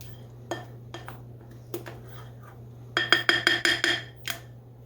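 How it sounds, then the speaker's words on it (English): A small spatula scrapes and knocks against the sides of a mixing bowl of cream cheese salsa dip, sparse clinks at first, then a quick run of ringing taps. "I'm just going to use my little spatula here to scrape the sides"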